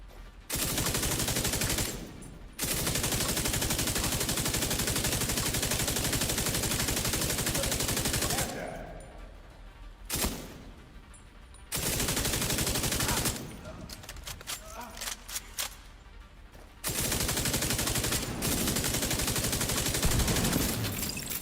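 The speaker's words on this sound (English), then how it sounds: "Was that gunfire?" Sustained bursts of rapid gunfire and explosions from a video game, loud and dense, broken by short pauses.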